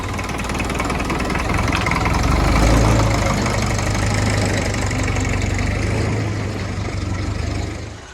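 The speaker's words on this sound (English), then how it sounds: "it does sound lovely, this little tractor." A small Massey Ferguson tractor engine idles steadily up close, a continuous low throbbing chug that swells slightly in the middle and holds even throughout, with no talk.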